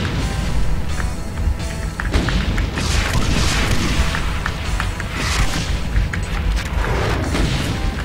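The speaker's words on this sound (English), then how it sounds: "Firing a rocket launcher at close range is never a good idea" A rocket launcher fired at a revenant at close range in a video game, dense booming blasts and thuds packed together, loud and continuous throughout.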